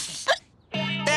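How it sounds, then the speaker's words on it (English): A cartoon character in Dennis and Gnasher gives a short, sharp hiccup, followed by a drawn-out voiced sound right after. "these hiccups are ruining me day"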